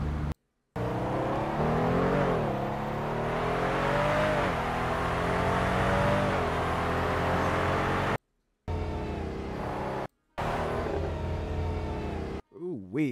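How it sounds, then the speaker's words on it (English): Custom engine sound mod on a car in GTA 5 / FiveM, a loud continuous engine note that revs up and down with rising and falling pitch sweeps, broken by a few brief silent cuts, with a voice and backfire-like bursts near the end. "this is the real engine sound"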